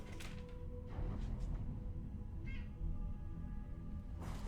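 A pet cat gives a few short meows indoors, spaced out over steady low background hum, with no one speaking.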